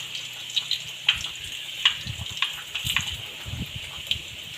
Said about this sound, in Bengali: শুকনো লঙ্কা ফোড়ন দিয়ে দিলাম